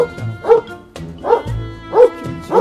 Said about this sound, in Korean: 강아지가 왜 있지? 여기 강아지가 있을 이유가 없잖아.